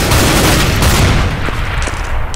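A grenade blast in a CS:GO competitive match on the Office map: a loud, broad boom that rolls into a sustained rumble for about two seconds, with a few sharp cracks toward the end.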